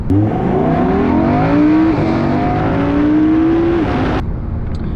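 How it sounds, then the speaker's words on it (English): A 2024 Audi R8 engine drones loudly from inside the cabin while driving, its pitch sweeping upward through successive gear changes as the automatic transmission downshifts, then the roar drops off sharply near the end. "it instantly downshifts when you're not in the dynamic"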